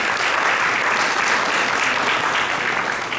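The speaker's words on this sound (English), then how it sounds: "Please give them all a big round of applause." Audience applause at a Thyagaraja Aradhana classical arts event at a Houston temple: dense, steady clapping from a large crowd, loud and sustained throughout with no talk over it.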